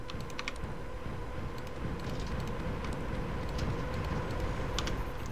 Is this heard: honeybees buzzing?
no